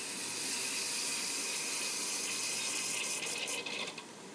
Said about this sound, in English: I'm going to start by putting water in the first pan, simulating sap entering the first pan